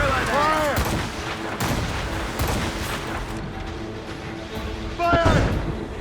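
Ship cannons in Assassin's Creed Rogue boom in a naval battle, several heavy shots landing at irregular intervals with rumbling echoes and splashing, loud and close, with shouted voices and whistling projectiles between them.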